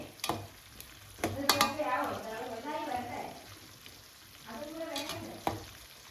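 Jackfruit pieces frying in hot oil at home, crackling and sizzling in bursts as they are stirred, with someone talking over the cooking.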